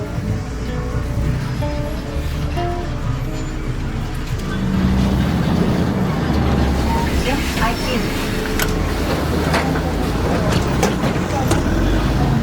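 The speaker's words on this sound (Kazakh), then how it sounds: "Мопедчиктер." Mopeds pass along a street amid ongoing road traffic, a continuous engine and roadway rumble that grows louder and busier partway through.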